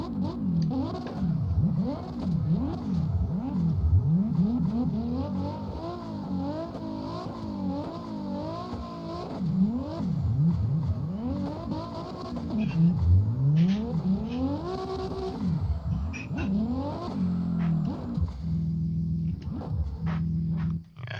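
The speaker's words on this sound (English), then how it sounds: "I had to do one donut real quick" A car engine in CarX Drift Racing Online 2 revs up and down repeatedly through a donut, its pitch swooping in wavering cycles with tire whir beneath, steady and fairly close.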